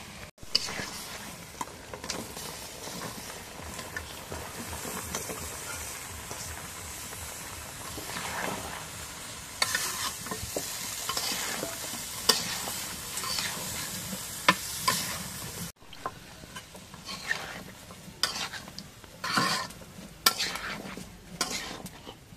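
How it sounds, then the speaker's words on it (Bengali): A fish head is stirred and sautéed in a pan. Steady frying sizzle runs under repeated scraping and clinking of a utensil against the pan, close and moderately loud, with faint voices in the background. "এখন মাছের মাথা লেগে দিয়ে কষাই নিই।"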